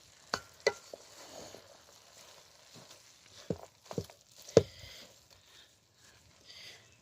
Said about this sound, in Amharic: እንደምታዩት ጎመንና ስጋውን አቀላቀልኩት።